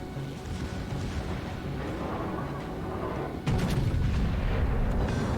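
Secondary guns on the Monarch battleship in World of Warships fire in a dense rumble of distant booms, swelling into a louder burst near the end.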